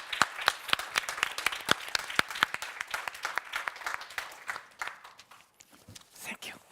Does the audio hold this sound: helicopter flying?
no